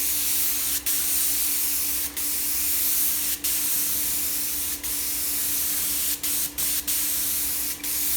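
A spray gun lays down a coat of satin finish, a loud continuous airy hiss broken by several short pauses as the trigger is released and pressed again.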